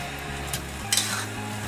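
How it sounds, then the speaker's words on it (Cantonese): A wok spatula stirs a watery tomato paste and minced pork noodle mixture in a wok, making a soft continuous sizzle with a couple of brief scraping clinks. "然之後咧就用個鑊鏟兜勻佢"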